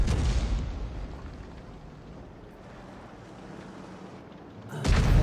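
Crusader 5.5-in. SP self-propelled artillery gun firing a shell in a tank video game: deep rumbling boom that settles into a low sustained roar, with a fresh loud burst at the end.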